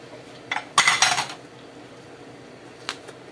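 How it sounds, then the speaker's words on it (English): Meatballs and their juices tipped from a plate into a cooking pan, a short cluster of clattering, clinking pot-and-plate knocks followed by a quieter clink, with no talk. "I'm going to chuck in my meatballs and any juice that's on the plate."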